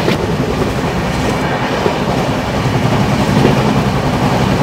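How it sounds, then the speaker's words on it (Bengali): Loud, continuous roar of a fast-moving train passing Jirat station, heard from close by on board, with a dense rumbling clatter of wheels on rails and no pauses. "মারাত্মক গতিতে ট্রেন যাচ্ছে, মারাত্মক।"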